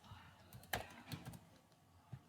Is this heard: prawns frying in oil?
no